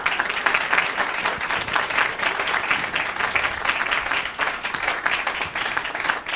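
Audience applauds panelists at the close of a round-table discussion in a 2002 colloquium on religious and political tolerance, steady dense clapping sustained throughout at moderate level with no voices on top.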